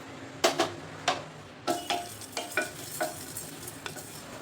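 Fenugreek seeds and cloves dry-roast in a pan as a utensil stirs and scrapes them, a series of sharp, rhythmic scraping strokes over a faint background hiss.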